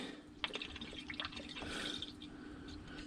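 Liquid is poured into a water-filled hose on a hauled-out boat, making faint trickling and dripping sounds with a few small splashes, quiet and close.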